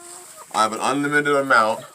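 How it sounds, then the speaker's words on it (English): A chicken lets out a drawn-out, tonal cluck with a rising and falling call, close and clear against an otherwise quiet backdrop, while the flock works through leaf compost on a homestead. "The chickens do their natural thing."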